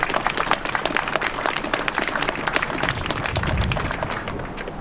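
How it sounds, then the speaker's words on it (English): Audience applause at a downtown railyard rail event, steady dense clapping from a crowd that holds at an even level for the whole stretch without a break. "let's just give them all a round of applause"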